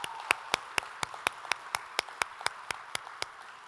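Crisp, evenly spaced claps in a steady rhythm at a leadership recognition at an ACC general assembly, about four per second, fairly faint and without voices.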